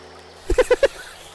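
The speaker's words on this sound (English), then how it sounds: "Frog. I hear frudge." Four short, throaty frog croaks arrive in quick, evenly spaced succession near the middle, loud against an otherwise quiet background.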